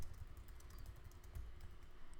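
Quiet computer keyboard typing, a steady patter of soft key clicks running continuously at close range with no voices.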